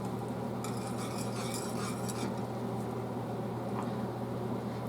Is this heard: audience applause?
no